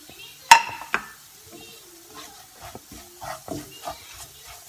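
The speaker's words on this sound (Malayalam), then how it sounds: "ഇനി ഞാൻ പച്ചമുളക് ഇടുക." Green chillies dropped into hot oil in a pan, giving a short burst of sizzling followed by quiet spattering and a few soft clinks of utensils against the pan.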